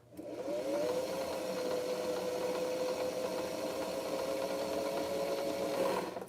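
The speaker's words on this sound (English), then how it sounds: "the band is going to be going and spinning, and we're going to fill up our bobbin" A sewing machine winds a bobbin with a steady whirring hum that holds an even pitch for several seconds after a brief spin-up, close and alone.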